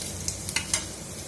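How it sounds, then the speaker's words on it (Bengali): A small amount of chopped garlic sizzles softly in a pan with a low frying hiss and a few brief scrapes and clicks of stirring, close and quiet, without voices. "এরপর দিয়ে দিলাম কুচানো রসুন কুচি, অল্প সামান্য রসুন কুচি দিয়ে দিলাম।"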